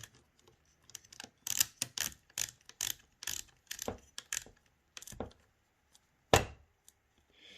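Clicks and ratcheting snaps from a Scalarworks scope mount being tightened onto a SIG SG551 rifle, a close series of short, sharp mechanical taps in irregular bursts, ending with one louder click.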